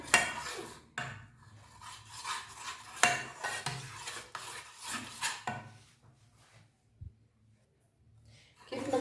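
A spoon stirs and mixes pizza sauce in a bowl, a steady rasping scrape of utensil against the bowl in bursts, close and fairly loud, fading into quieter pauses near the end.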